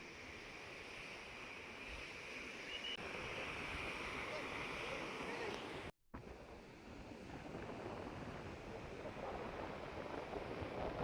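Sea waves roll in at Panambur beach in Mangaluru as a steady, continuous wash of surf mixed with wind rumble, with one abrupt momentary dropout partway through.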